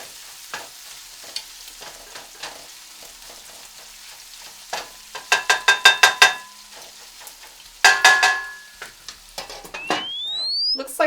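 Bacon frying in a pan, a quiet crackle at first, then sharp bursts of popping and clattering, with a rising electronic whistle near the end.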